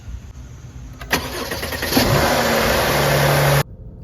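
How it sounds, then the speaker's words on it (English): A Mercedes W166 with a check engine light on and a faulty bank 1 sensor 1 oxygen sensor cranks briefly, catches, and settles into a steady close idle. "Time to start up the car and see."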